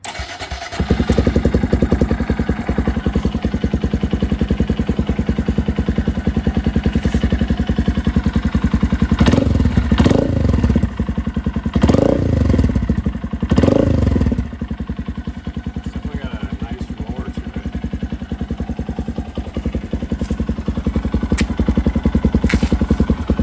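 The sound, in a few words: 2023 Honda Grom motorcycle with Zoom exhaust, cold start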